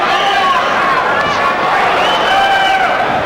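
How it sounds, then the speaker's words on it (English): A boxing arena crowd during a Holyfield versus DeLeon unification bout swells into a loud, dense roar with cheering and chatter, continuous throughout. "Interesting, the crowd like building to a crescendo,"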